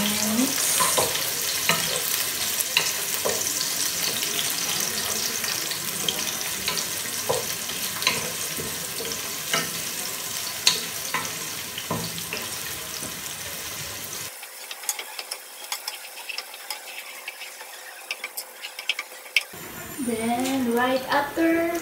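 Garlic and red onion frying in a pan make a continuous hiss with frequent utensil scrapes while being mixed. A quieter thinner stretch comes near the end, then the sizzle and stirring return.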